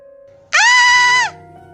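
A single short bleat from a little goat, loud and close, lasting under a second over faint background sounds.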